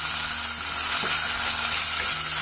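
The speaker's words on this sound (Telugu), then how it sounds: "ఆనియన్స్ కొద్దిగా వేగాక ఈ టమాటా ముక్కలు కూడా వేసేసుకోండి" Onions with freshly added tomato pieces fry in a pan for a chutney, giving off a loud, dense sizzle that runs unbroken throughout, close up, with a low hum underneath.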